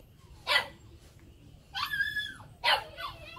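A Phu Quoc puppy on its first leash training whimpers and yips in three short bursts, high-pitched whines rising and falling close by, with a faint steady hum underneath.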